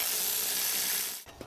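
A ratchet clicks rapidly while loosening 8 mm bolts on a bracket of a Ford F150 with the 5.4 engine, a close continuous ratcheting buzz ending in a couple of separate metallic clicks.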